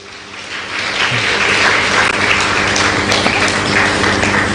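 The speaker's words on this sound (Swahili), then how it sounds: "Makofi zaidi, makofi zaidi." Dense, steady applause from a hall audience at a Tanzanian World Press Freedom Day ceremony, loud and sustained for the whole stretch after a speech, with no voices standing out.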